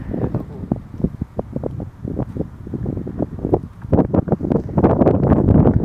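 Wind gusting across a rice paddy during harvest as a storm approaches, a rough, uneven rumble of wind against the microphone with rustling bursts that grow louder toward the end.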